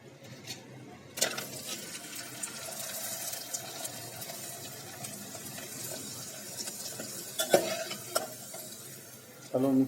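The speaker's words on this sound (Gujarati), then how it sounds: "આપણે જે ઘરે જ બનાવેલા પાપડ છે, ચોખા અને ઘઉંના અલગ અલગ જે આપણે તળી રહ્યા છીએ" Homemade rice and wheat papad frying in hot oil, a soft continuous sizzle with occasional clinks and stirring knocks near the pan, moderately quiet, no voices.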